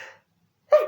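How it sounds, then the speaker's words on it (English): A single human sneeze, a short sharp burst after a faint breathy intake, heard close and alone. "I had a sneeze coming, one for the wish"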